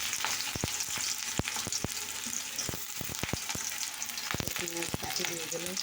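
Chopped ingredients frying in hot oil in a kadai, with a dense continuous sizzle up close and sharp crackling pops and spatters throughout, a few utensil clinks near the end.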